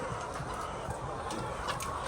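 Layer hens on a farm cluck steadily in the background, a soft, continuous murmur of overlapping calls with a few slightly louder clucks, no talking.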